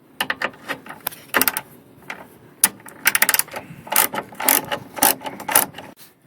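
A ratchet clicks in quick bursts while loosening 8 mm bolts holding an air dam under a 2004 Mercury Grand Marquis GS, with sharp metallic ticks coming in uneven rapid runs and short pauses between them, close up and with no talk.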